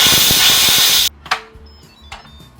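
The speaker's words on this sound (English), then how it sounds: "Open away from you, so that the steam goes that way." Steam hisses from a pressure cooker as the lid is opened during a batch of pumpkin purée. A loud, dense rush lasts about a second and stops abruptly, followed by faint clinks and handling noises.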